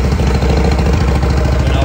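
A 2003 Confederate Hellcat motorcycle engine runs on choke with a loud, close, steady low throb, a rapid even pulse with no talk over it.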